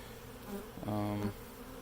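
Honey bees buzz around a Flow Hive as a newly installed colony settles in, with faint soft buzzing and then a clearer, louder drone passing close for about half a second.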